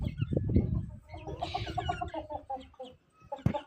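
Chinese rooster clucking close by in a village, a few soft low clucks followed by a string of rising, squawky calls and a brief sharp sound near the end, with no talk.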